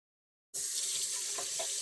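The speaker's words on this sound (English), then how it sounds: "Give it a nice little rinse." Running tap water pours steadily over a cleaned blue crab in a sink, starting abruptly and continuing as a close, even splashing rush with slight shifts as the crab is turned under the stream.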